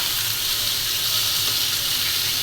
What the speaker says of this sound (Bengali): মাছটা বেশি কড়া করে ভাজবো না,